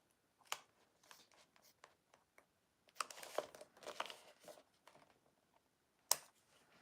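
Clear vinyl for a boxy bag being snipped and handled, giving soft crinkles and sharp cuts in uneven bursts, with a crisp snap near the start and another near the end, quiet and close.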